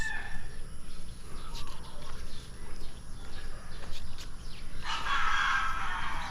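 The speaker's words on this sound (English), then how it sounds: "So you're gonna hear roosters still." A rooster crows at a distance, rising near the end, over steady outdoor background noise.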